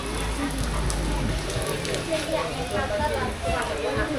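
Rain falls steadily at an outdoor Dong ceremony of the Taliang people. A constant broadband patter runs throughout, with people talking over it.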